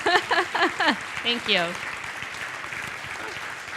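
Applause from a conference audience at an opening ceremony and keynote, a steady dense patter under someone speaking his thanks over it near the start, then carrying on softer as the talk fades.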